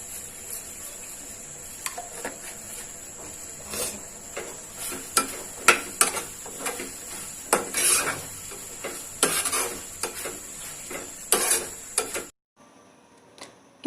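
A spoon scrapes and knocks against a pan while chicken pickle with vinegar and asafoetida is stirred, irregular clattering strokes over a steady hiss, ending abruptly.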